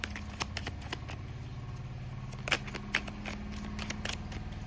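Tarot cards shuffled by hand, a series of sharp, quick riffle snaps and flutters in irregular bursts over a low steady background hum, close and moderately quiet, without speech.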